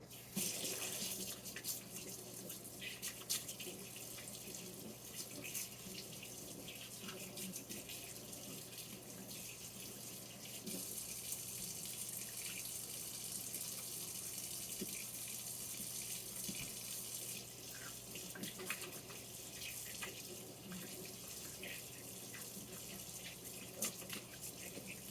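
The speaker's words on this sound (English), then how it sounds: "Wash my hands." A sink tap runs steadily for the whole stretch while hands are washed in a kitchen. The stream is a soft, constant hiss of water with small splashes, and no one talks.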